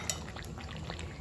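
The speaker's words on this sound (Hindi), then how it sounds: "आधा किलो मैंने ली है दही और इसको थोड़ा सा मिक्स करके मैं डाल देती हूँ अपने गोश्त के ऊपर।" Half a kilo of mixed yogurt is poured over mutton in a pot on a low flame for kadhao gosht, giving a soft continuous glugging pour with faint sizzling underneath.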